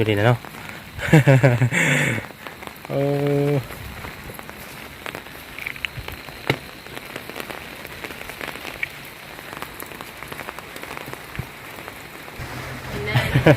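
Steady rain patters on surfaces outdoors, a continuous hiss of drops with occasional louder hits, while people talk over it and a vehicle passes.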